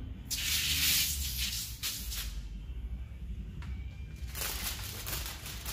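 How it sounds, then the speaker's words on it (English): Two bursts of hissing spray from a spray bottle wetting a 2003 Corvette window for tinting, a long one early and another near the end, with low mechanical rumble and handling noise between them. "So you're gonna go about halfway, spray it down"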